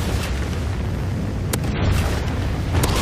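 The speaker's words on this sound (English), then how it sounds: "Friendly Trinity rocket inbound" A Trinity rocket strike in a shooter video game sets off deep rumbling booms, with a couple of sharp blasts standing out above a continuous roar of explosions and gunfire, close and loud.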